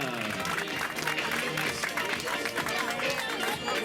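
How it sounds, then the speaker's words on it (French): Crowd applause at a prize-giving for a 10 km running race, greeting Christine and Philippe: lively clapping that sustains throughout, with some voices in the crowd beneath it. "Applaudissements pour Christine et Philippe."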